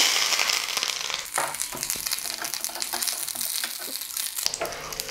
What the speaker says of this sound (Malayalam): വറ്റൽ മുളക് ഇതിലേക്കിട്ട് അത് നോക്കുമ്പോൾ കറിവേപ്പില